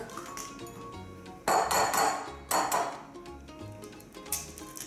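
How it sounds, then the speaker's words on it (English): Eggs cracked one after another against the rim of a bowl for Nutella crepe batter, sharp close knocks and clinks at about two-second intervals, with small shell and drip sounds between them and no talk. "Let's crack the eggs."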